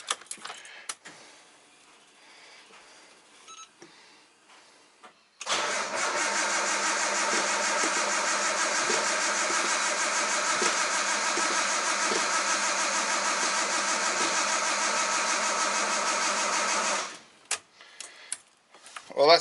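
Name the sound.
Nissan R32 Skyline engine cranking, failing to start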